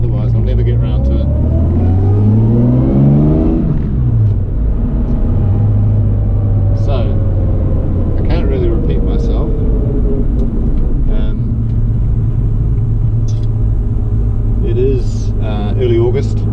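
A Series 1 Jaguar E-Type with a long stainless steel exhaust driving on a New Zealand road in early August, its engine loud and close, rising through revs, dropping on gear changes and settling into a steady droning cruise, with a voice talking over it.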